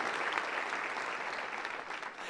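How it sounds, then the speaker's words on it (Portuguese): A church congregation at a Brazilian worship service claps in steady, dense applause that holds evenly through the whole stretch, loud and close with no other sound on top. "Você pode aplaudir o Senhor por isso."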